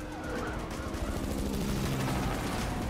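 Dense machine-gun fire from an Unreal Engine 5 video game demo rattles as a continuous loud burst over a noisy background of game effects.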